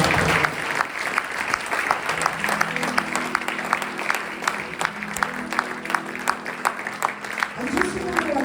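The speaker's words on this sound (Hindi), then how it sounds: "परमेश्वर में जोरदार तालियों के साथ धन्यवाद करें" Applause from a youth camp congregation in Lonavala, steady dense clapping throughout with strong individual claps, while a low voice speaks or sings under it near the end.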